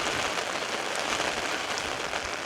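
Steady, dense rain falls on saturated, waterlogged ground outdoors, a continuous close hiss of drops with no breaks and no voices.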